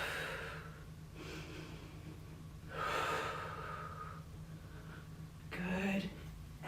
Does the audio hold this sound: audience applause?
no